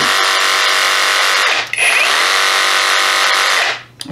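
A Hercules brushless reciprocating saw runs loud and close in two bursts with a brief dip between them. It makes a steady high buzzing motor whine, then winds down at the end.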